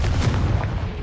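A short, heavy blast erupts from the Confringo blasting spell in Hogwarts Legacy on PS5, a single booming explosion with a rumbling low body.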